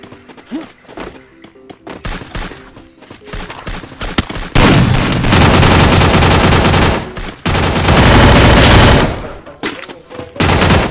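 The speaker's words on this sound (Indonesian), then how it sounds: "Tembak baru di belakang lagi Rudi." Rapid bursts of gunfire from a shooting video game, loud and dense, with sustained automatic fire in long stretches broken by short pauses and scattered single shots.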